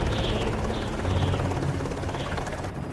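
A helicopter on a marine salvage job at a sunken cargo ship roars steadily and loudly in high winds, its rotor and engine noise filling the scene with a constant buffeting rumble.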